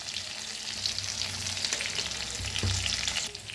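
Ground masala with roasted green chillies, turmeric, coriander powder, red chilli powder and fennel seeds fries steadily in a hot pan, a continuous close sizzle with soft stirring scrapes throughout and no voices.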